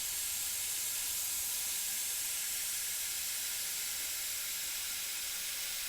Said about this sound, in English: This is spraying amazing.